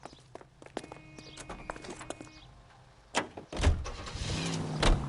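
Car driving in the video game L.A. Noire, with a door thump and footsteps before the engine rises and the car pulls away, fairly close and loud toward the end.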